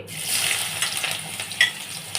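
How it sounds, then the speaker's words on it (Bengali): Chopped onions fry in ghee in a wok for a spinach and yogurt dish, a close, soft sizzling hiss with a few light clinks and stirring scrapes, no talking. "ঘি তেলটা কড়াই দিয়েছি পেঁয়াজ কুচিগুলো দিচ্ছি"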